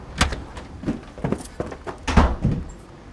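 Knocking on a door: a series of sharp, close thuds in an uneven rhythm, several distinct raps spread across a few seconds with quiet gaps between, no voices.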